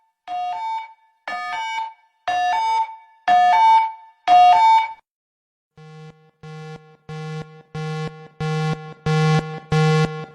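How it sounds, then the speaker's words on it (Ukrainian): A phone app's chemical threat alert: two electronic alert patterns play one after another, five two-note beeping bursts, then a series of buzzy pulses that rise in pitch and grow louder. "Увага! Хімічна загроза."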